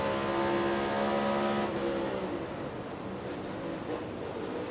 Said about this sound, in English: did you hear the car almost go? It sounded like it might have gone into neutral right there.